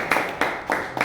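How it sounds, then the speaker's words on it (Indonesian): A classroom group gives a brief round of applause, four quick bursts of hand claps close by, with no talk over them. "Tepuk tangan dong untuk kita semua."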